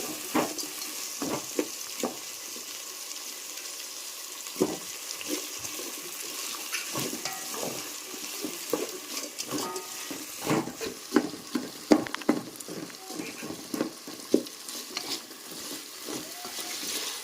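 Vegetables with tomato, coriander and mint are stirred in a pan for a vegetable biryani, giving soft repeated scrapes and clicks of the spoon over a quiet simmering hiss, with no voices.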